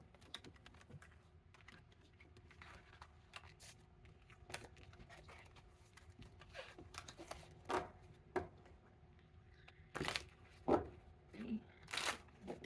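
Tarot cards are shuffled in soft, irregular riffles and clicks that build into louder bursts near the end, close and fairly quiet, with faint speech in the background.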